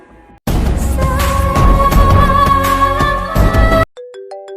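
A loud electronic phone ringtone plays a bright repeating melody for a few seconds, then cuts off, followed by a short softer tone pattern.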